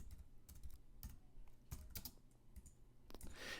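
Quick bursts of keystrokes on a computer keyboard, irregular clusters of crisp clicks close up with short pauses between, no voices.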